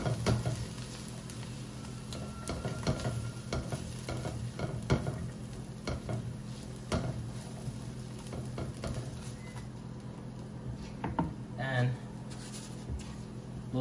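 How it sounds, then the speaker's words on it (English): Onions sweating in butter in a pan for rice pilaf, a soft steady sizzle with occasional stirring scrapes, heard beneath a person talking. "I'm using the butter because I'm trying to get as much flavor without making the rice fattening. So just sweat the onions."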